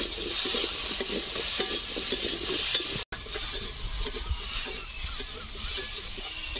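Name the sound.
fish sautéing with salt and turmeric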